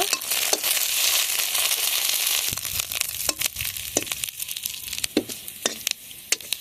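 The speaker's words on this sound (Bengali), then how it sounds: "কিছুটা কারি পাতা দিয়ে দেবো সবগুলো একসঙ্গে ভালোভাবে ভেজে নেব" Curry leaves and spices frying in hot oil in a pan, a loud dense sizzle that crackles at first and then gives way to sharp popping bursts and stirring scrapes.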